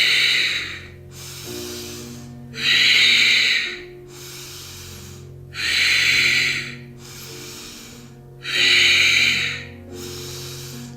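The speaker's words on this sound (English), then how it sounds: "take strong Ujjayi breaths" Strong Ujjayi breaths during Ashtanga yoga, three loud hissing exhalations through a constricted throat, evenly spaced, with quieter inhales between them over a faint background hum.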